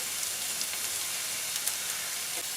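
Onions fried for dal tadka keep up a soft, steady sizzle in a pan, a faint even hiss with a few small pops and no speech.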